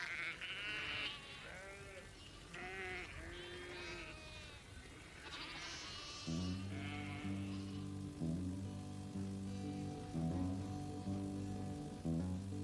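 A friendly sheep in a field bleats in a run of wavering calls over the first six seconds, then a steady droning hum with rhythmic pulses takes over and carries on to the end.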